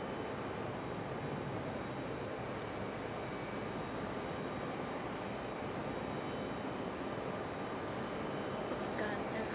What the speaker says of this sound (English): this is American Airlines 173 777-200 from London